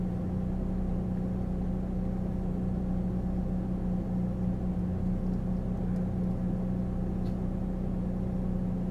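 A Mazda RX-8 rotary engine idles steadily at close range, a smooth continuous hum with an even low drone and no fluctuation throughout.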